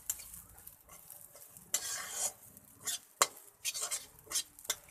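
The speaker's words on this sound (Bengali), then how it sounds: "এবার আমি চালের গুঁড়োটা এখানে দিয়ে দিব। এটাকে পুরা ভেজে নিতে হবে।" Rice flour frying in hot oil while being stirred, with scraping strokes against the pan in irregular bursts over a soft sizzle, close and fairly quiet.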